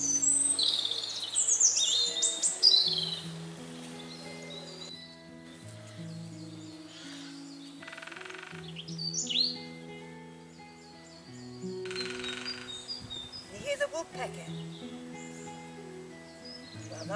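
Spring birdsong on a woodland walk at Heswall Dales: several birds chirp and trill in clear bursts, some close and some farther off, over a low steady background hum.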